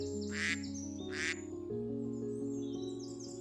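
A duck quacks twice in quick succession near a pond, clear and close over a quiet sustained musical background, then falls silent while the music carries on.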